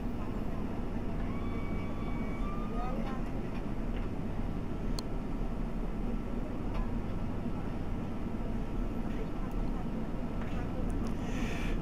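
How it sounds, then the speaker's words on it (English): A SAAB 340A airliner in the X-Plane 11 flight simulator approaches to land at KWJF, its engines holding a steady, loud drone throughout, with a few faint ticks and clicks over the top. "Okay, so we can start slowing this airplane down."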